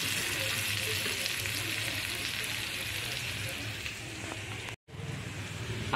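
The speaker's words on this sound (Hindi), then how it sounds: "तो जब तक आलू फ्राई होता है, प्याज भी अच्छा से फ्राई हो जाता है" Potatoes and onions deep frying in hot oil, a steady close crackling sizzle that runs continuously with no talk, broken once by a brief gap near the end.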